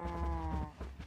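Farm animals in a survival video game call out in a single drawn-out, bleating moo, close and fairly loud, lasting about a second with no talk over it.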